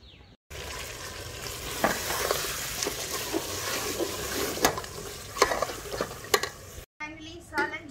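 Mutton curry (salan) bubbling and sizzling in a pot over a wood fire, with steady frying hiss and periodic scraping stirs of a spoon against the pot, close and continuous.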